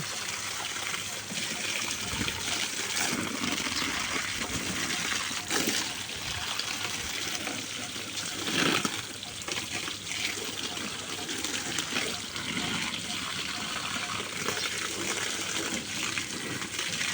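Plants in a rooftop garden are watered, with a steady stream of water gushing and trickling close by for a long stretch and faint occasional splashes, no voices.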